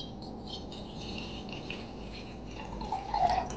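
Roughly a cupful of water poured into a pot set over a medium gas flame, a soft, faint trickle that swells briefly near the end with no talking.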